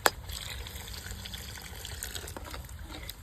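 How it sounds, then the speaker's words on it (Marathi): Water poured into a simmering paneer masala gravy, a short, faint splashing gush lasting a few seconds with no voices. "आपण आता ग्रेव्हीमध्ये थोडंसं पाणी घालून घेऊ।"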